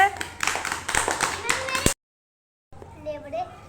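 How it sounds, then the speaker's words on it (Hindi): Children clap their hands together in a burst of dense, lively applause that lasts about two seconds. It cuts off abruptly, and a voice follows after a short gap. "ताली बजाओ सब इसके लिए।"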